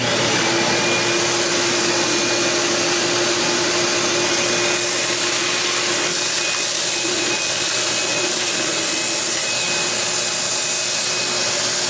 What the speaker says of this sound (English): I'll get that vacuumed out